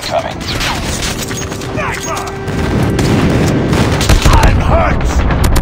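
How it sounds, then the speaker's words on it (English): Airstrike explosions and gunfire in a Call of Duty game: rapid crackling bursts and deep booms build into heavier rumbling impacts, with voices and game callouts layered over the battle. "Friendly airstrike incoming."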